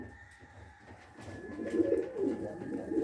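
A red-and-white beaded, smoky-coloured male pigeon gives soft, throaty coos that swell in the second half of the clip, nearby over a quiet background.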